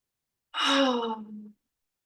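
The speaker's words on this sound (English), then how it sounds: "Maybe taking a few deep breaths, maybe open mouth exhaling." A single deep breath let out through an open mouth, a close, breathy exhale of about a second rising in then trailing off, alone in silence.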